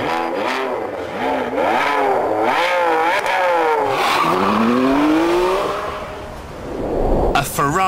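A Ferrari 599 GTB Fiorano is driven hard on a test track, its engine loud and close as it revs up and down through repeated gear changes, with a rising howl before the note drops away and a burst near the end.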